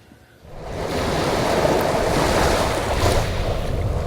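Lake Michigan waves break on the South Milwaukee shore in a steady, loud wash of surf with wind noise, rising quickly after a quieter start and holding with no speech.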